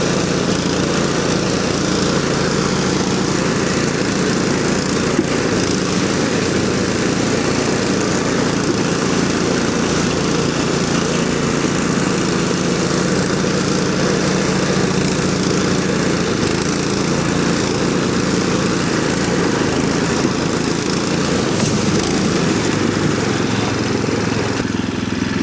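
A homemade track sled for ice fishing, fitted with a new throttle and gear, runs its small engine steadily and loud throughout, a constant buzzing drone with no pauses.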